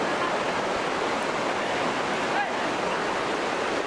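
Fast-flowing river current in the Serayu area, a steady, dense rushing roar of water holding constant throughout, loud and close with no pauses.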